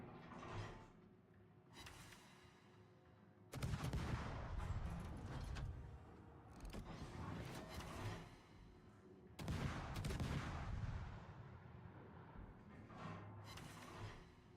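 Gunfire rings out during a D-Day mission in a video game, with two big loud bursts of shots and rumbling fire that swell and then fade, plus scattered distant cracks between them.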